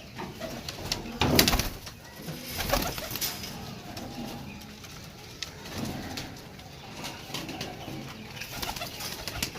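Pigeons coo steadily in a loft of a few hundred birds, soft throaty calls overlapping continuously at moderate distance, with a brief flutter of wings early on.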